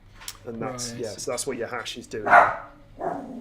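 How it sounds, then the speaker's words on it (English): A dog barks once or twice inside an office, a short sharp burst rising over steady nearby speech that continues before and after it. "if you heard that barking"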